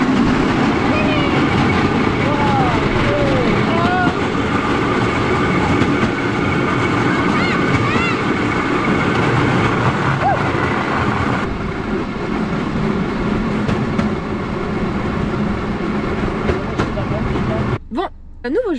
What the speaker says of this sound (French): il y a beaucoup de bruit sur les rails.